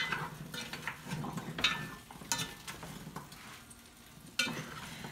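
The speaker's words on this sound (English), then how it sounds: "Let's just keep stirring." Rice simmering in broth in a pot is stirred with a utensil, giving uneven scraping and swishing strokes over a soft, steady sizzle, close up with no talking.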